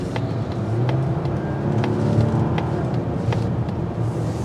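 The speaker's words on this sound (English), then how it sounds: "when you're in sport, even in the PHEV, it likes to hover at a higher RPM" Engine of a 2024 Mazda CX-90 PHEV held at higher RPM in sport mode, a steady close drone with a sustained hum running throughout, no voices.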